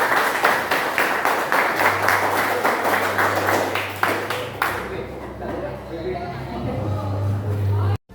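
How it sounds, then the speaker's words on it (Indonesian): Audience clapping after a group presentation at a vocational school, a burst of dense applause over the first few seconds that fades out, with a sustained low tone and a voice briefly heard. "Beri aplaus pada kelompok 1."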